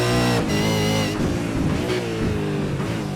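Race car engine held at full throttle in an esports racing game at Bathurst, a loud, steady high-revving drone with brief gear-change dips, close and continuous throughout.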